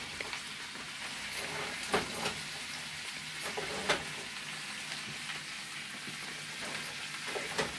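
Cabbage frying in the grease left from crispy chicken, a steady close sizzle and crackle with a few louder pops, running on without talk.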